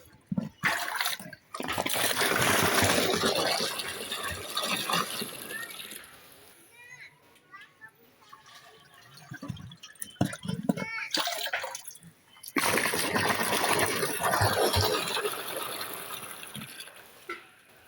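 Water pours and splashes into a village water tank in loud, rushing spells. Quieter stretches in between carry faint trickling and some nearby talk.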